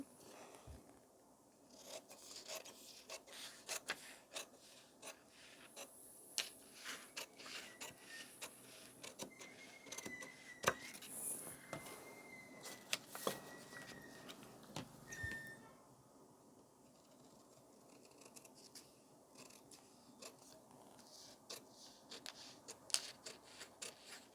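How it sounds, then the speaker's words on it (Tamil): Scissors cut through blouse fabric on a tailoring table, giving faint, close snips and crisp rustling scrapes in uneven bursts over a quiet background, with no talking. "அதை அப்படியே கட் பண்ணிடலாம்"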